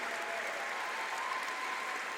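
A church congregation applauds the organising pastors, a dense, steady wash of clapping from a large crowd that holds even all the way through.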